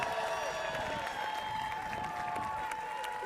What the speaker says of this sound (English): can I get a round of applause for our host today, Steve?